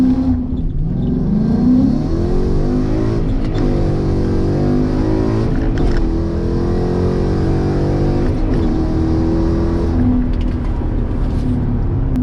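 A Ford Mustang with an MT-82 manual gearbox does a dig launch from a standstill. The engine revs loud and close, and its pitch climbs and sags as it bogs off the line, droning steadily for about twelve seconds.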